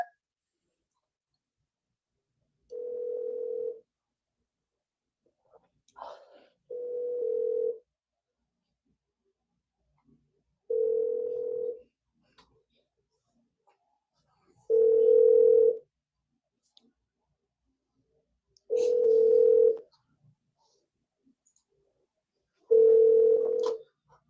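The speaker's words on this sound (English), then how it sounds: "Apparently they don't answer their phone either." An outgoing telephone call rings unanswered, six evenly spaced ringback tones of about a second each separated by long silent gaps, clean and close with no talking.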